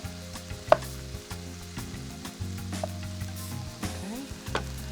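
Diced pancetta sizzles in a little oil in a pan, a soft, steady frying crackle that runs throughout beneath a louder melodic tonal background, with no talking.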